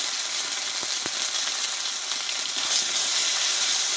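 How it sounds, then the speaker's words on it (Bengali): Spices with turmeric, ground cumin, ginger and green chilli paste sizzle and fry in a pan, a steady close hiss with a couple of faint clinks from stirring. "মশলাটা আমি একটু কষিয়ে নেব আগে"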